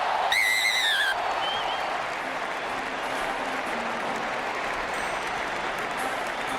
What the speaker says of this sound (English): They celebrate in the crowd.